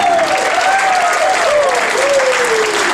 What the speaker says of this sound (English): I'd like to give you a big round of applause